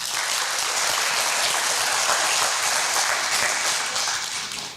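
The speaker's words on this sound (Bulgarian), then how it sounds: "Аплодисменти, моля!" An audience at a pageant ceremony applauds, a dense, even, sustained clapping that holds steady throughout and eases slightly at the close.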